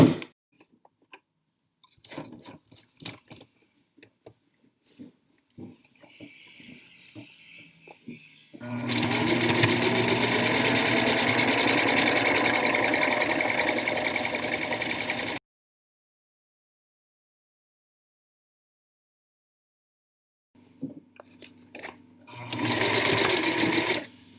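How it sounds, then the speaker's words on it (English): Sewing machine running a steady line of stitching along the bottom edge of boxer shorts, a continuous loud whirr for about six seconds, then a short burst near the end, with quiet handling clicks before it. "we're going to do a line of stitching 1/8 of an inch from the bottom edge"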